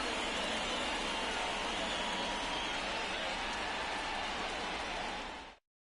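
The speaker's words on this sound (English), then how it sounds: "The rain is here, and it doesn't look like it's going away anytime soon" Steady, dense rain hiss from MLB The Show 24 during a Pirates–Yankees game, a continuous wash of falling rain that stays loud and even before cutting off abruptly near the end.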